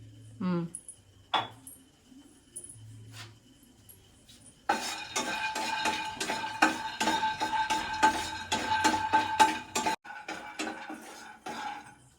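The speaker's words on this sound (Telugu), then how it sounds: "ఒక చిన్న కప్పు పల్లీలు వేయించుకుంటున్నాం" A small cupful of peanuts is stirred and roasted in a pan, giving a rapid, continuous clatter and scraping of metal on metal after a few earlier clinks, with people talking in between.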